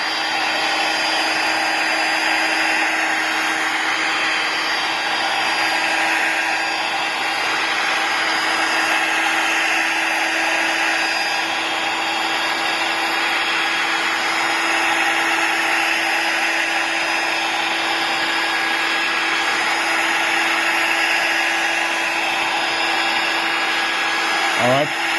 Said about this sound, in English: we're going to use again the air gun or the heat gun. I'm going to go ahead and blow 200 degrees heat around the frame.